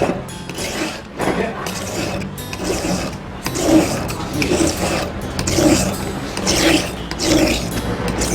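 Nail clippers being sharpened against an abrasive, a steady gritty rasping and rubbing in repeated strokes at close range, with no talking.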